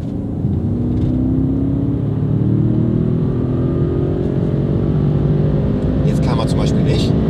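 Mercedes S63 AMG accelerating hard, its engine tone rising steadily in pitch as it pulls, heard loud and continuous from inside the car, with brief higher noises near the end.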